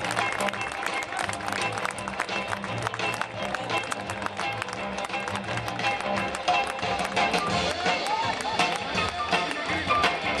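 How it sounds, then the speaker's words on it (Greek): An audience applauds the children's team from Voula at a championship event, a sustained, busy clatter of many hands with an announcer's voice running over it. "Ένα χειροκρότημα, ένα χειροκρότημα στα παιδιά από τη Βούλα."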